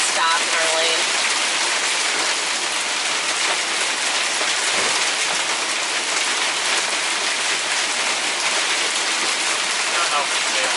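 Heavy rain drumming on a moving vehicle, a loud, dense, unbroken hiss of drops pelting the roof and glass throughout, with faint voices in the cabin.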